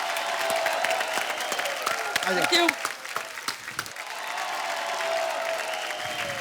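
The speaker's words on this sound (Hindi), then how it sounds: "जोरदार तालियां हमारी क्रिकेट टीम के लिए" Loud applause for a cricket team fills the room, steady clapping from an audience at a Hindi television show that swells briefly in the middle, with a short spoken thanks near the start.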